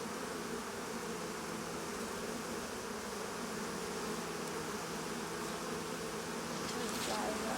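Honey bees buzz in a hive full of young brood, a dense, continuous, close drone that holds steady throughout.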